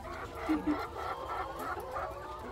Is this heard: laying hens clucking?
yes